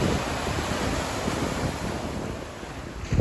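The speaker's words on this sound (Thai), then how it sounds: "นี่คือดูความแรงของคลื่น ยามนี้ถือว่าเป็นช่วงมรสุม" Strong monsoon-season sea waves at Koh Taeo, Thailand, rolling and crashing in a continuous loud roar, buffeted by wind noise on the microphone, with no voices.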